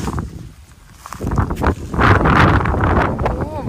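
Strong gusts of wind sweep across a hillside farm with rubber trees in Laos, rising and falling as they buffet the microphone while a voice talks nearby.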